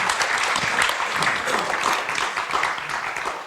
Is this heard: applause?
yes